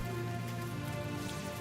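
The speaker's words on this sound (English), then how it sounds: "you will make it rain" Steady rain falls from a rain spell cast in the video game Divinity: Original Sin, a dense continuous hiss of drops at even loudness with no pauses.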